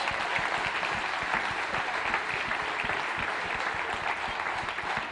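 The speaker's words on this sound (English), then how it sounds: "Let's give these families a round of applause." Steady applause from a church congregation, many hands clapping continuously at moderate volume throughout.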